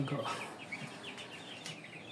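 A Shamo chicken chick in a basket, giving a run of soft, rapid high peeping chirps close by, with a voice talking in the background.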